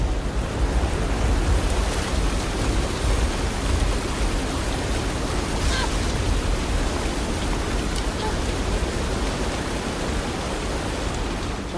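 Heavy rain and storm ambience from the video game South of Midnight, a steady, loud hiss of falling water that fills the whole stretch with no clear thunder crack.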